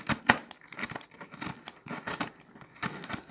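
A knife chops walnuts in quick, uneven taps and crunches on a board, close and fairly quiet, with no speech.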